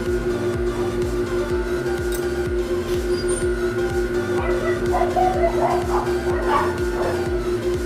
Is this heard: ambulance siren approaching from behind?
no